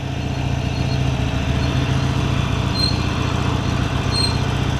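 A KTM Duke 390 motorcycle engine drones loudly and continuously while revving, close by, with a deep low rumble throughout and no clear rise or fall in pitch.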